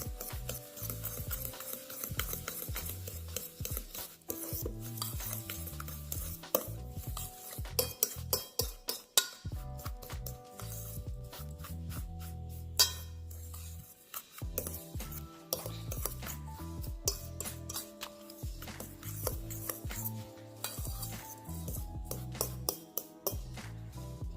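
A utensil scrapes and stirs melted butter through a crumb mixture in a bowl for a strawberry cheesecake, close up with steady rubbing and clinking strokes and occasional sharper knocks against the bowl.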